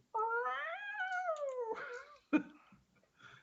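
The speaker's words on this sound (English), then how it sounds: "My cat just goes." A pet cat lets out a long, drawn-out, wavering meow, close and loud, followed by a shorter sharp cry and a faint trailing sound, with no talking.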